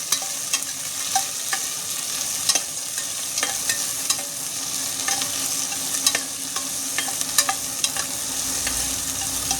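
Onions sauté in a pan under a constant sizzle, broken by frequent light scrapes and taps of a stirring spoon, close by with no talk.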